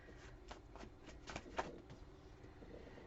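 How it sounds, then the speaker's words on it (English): A deck of playing cards being shuffled at a table, with repeated riffling bursts and soft flicks spread across the clip, close and fairly quiet, with no talking. "I feel like I need to shuffle again."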